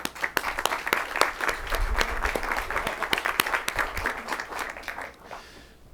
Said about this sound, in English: I want to give another round of applause to everyone behind me